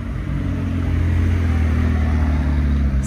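A McLaren 675LT engine running steadily at a car event in Knokke, a loud low droning rumble that holds evenly throughout with no clear revving.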